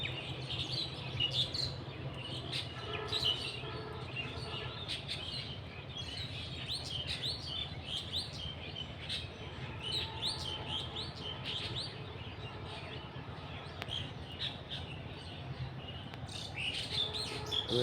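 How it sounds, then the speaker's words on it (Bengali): Migratory birds in an open village field give quick high chirps and tweets, some clustered in bursts, at a moderate distance over a low steady ambient rumble. "অতিথি পাখিগুলো অনেক বড় বড় হয়।"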